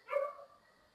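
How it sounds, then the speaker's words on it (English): A single short dog bark or yip, close by and moderately loud, fading quickly into quiet room tone during an indoor home workout session. "No need to bark."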